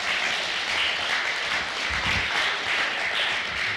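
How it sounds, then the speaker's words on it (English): A group of men claps steadily in a room aboard a peace bus, a dense continuous patter at fairly close range, loud and even throughout. "Clap for that, gentlemen"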